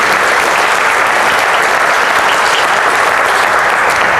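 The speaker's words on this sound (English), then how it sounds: "let's give our panelists a round of applause" Audience applause for forum panelists at a chamber of commerce forum, a dense steady roar of clapping holding at full strength throughout with no voices over it.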